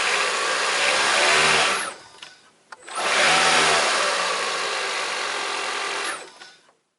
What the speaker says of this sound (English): notice how the engine turns on and off when blipping the throttle.